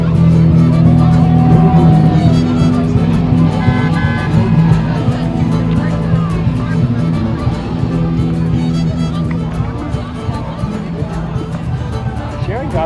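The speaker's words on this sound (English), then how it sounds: "what kind of car is that? Dodge Polara." A low-slung Dodge Polara rolls by in a St. Patrick's Day parade, its engine rumble blending with crowd chatter and a brief horn toot while people talk nearby.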